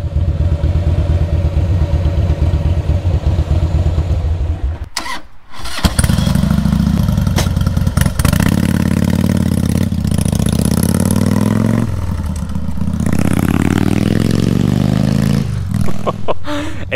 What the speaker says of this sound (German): Ich habe noch nie meine Harley mit wem anders fahren sehen. So hört sich die also an.